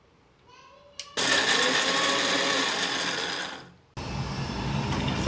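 A kitchen mixer grinder crushing roasted spices with grated coconut, a loud continuous whirring burst that cuts off briefly and then starts again at close range, with a little talk before it begins.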